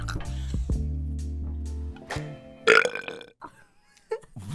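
A loud, long burp rumbles for about two seconds right after a bite of a giant gummy, with a couple of shorter belches and brief talk and laughter following.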